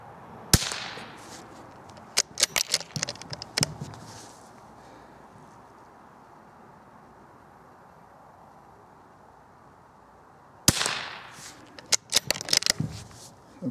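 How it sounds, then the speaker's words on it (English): Remington CBEE .22 low-noise rounds fired into ballistic putty at 30 yards make two separate sharp reports. Each is followed by a quick flurry of lighter clicks and cracks over quiet outdoor background. "So I'm going to shoot 2 shots into the ballistic putty first."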